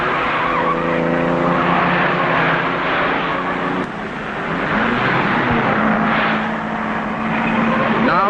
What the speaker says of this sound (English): and their car, which lies second to Hawthorn's Jaguar, is about to lap its 2 teammates.